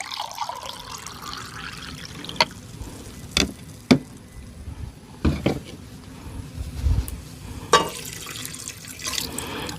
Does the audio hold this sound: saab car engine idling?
no